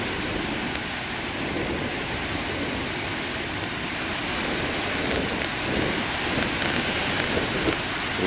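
Ocean waves break at a beach beside a lighthouse, a continuous loud roar of surf and churning water with some wind rumble, sustained without pause and with no voices.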